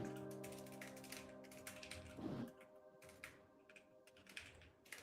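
A computer keyboard being typed on during a card-search query, with quick bursts of soft, close keystroke clicks over a faint steady background hum.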